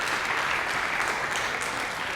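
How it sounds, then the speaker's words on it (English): An audience at a family conference on CRMO claps steadily for Dr. Jinguji, a dense, even round of applause filling the hall throughout. "Let's give Dr. Jinguji another round of applause"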